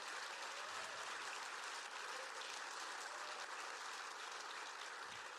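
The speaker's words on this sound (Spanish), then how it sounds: "Yo le daría un aplauso al Señor por eso." A church congregation applauds during a Spanish-language sermon, giving steady, dense, even clapping that fills the whole stretch at a quiet overall level with no talk over it.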